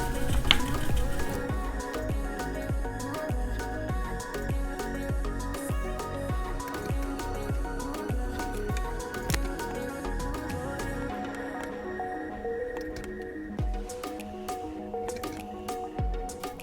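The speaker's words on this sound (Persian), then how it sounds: "شروع میکنم به رنگ گذاری." A brush works wet gouache paint on paper up close, making repeated soft squishy dabs and strokes with small clicks in an uneven rhythm, with no talking.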